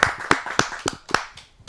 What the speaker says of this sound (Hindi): आप सबकी जोरदार तालियों से।